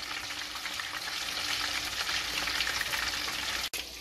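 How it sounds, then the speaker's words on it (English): Steady, loud sizzling and crackling of chicken deep frying in hot coconut oil, continuous throughout with a brief dropout near the end. "Ooh, it's frying up good and brown, y'all."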